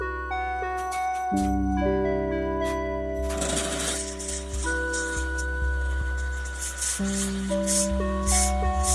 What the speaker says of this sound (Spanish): vamos a taladrar hasta donde queramos el interior